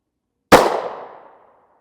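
A single sharp, loud pistol shot from a 5.2-inch threaded barrel strikes a ProtectVest NIJ Level IIIA bulletproof plate, a sudden crack with a short ringing decay of about a second out of silence.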